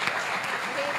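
A church congregation applauding during a sermon, a brief burst of clapping from a crowd with voices mixed in underneath.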